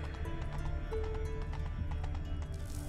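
A horse trots in The Witcher 3 video game, its steady clip-clop hoofbeats repeating evenly throughout over a sustained game music bed.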